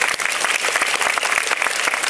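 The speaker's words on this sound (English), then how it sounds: "I think you should really give New Skin a big round of applause" An audience applauds together in a dense, even wave of clapping that holds steady from start to finish, close and fairly loud.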